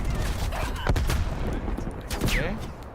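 Rifle fire in a military video game, enemy sniper shots cracking among a dense barrage of gunfire and booms, loud and continuous through a cluttered battle mix.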